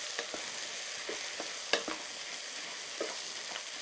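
Fried rice seasoned with stock cube is stirred in a pan, giving a soft, steady sizzle broken by irregular spatula scrapes and light knocks, with one sharper clack midway. It is fairly quiet, with no talking.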